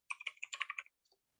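A quick burst of about eight close keystrokes on a computer keyboard, then two faint taps after a short pause, in an otherwise quiet room.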